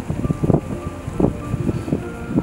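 Strong wind buffeting a tiny islet, gusting in rough low bursts against the microphone with a constant rushing background and no voices.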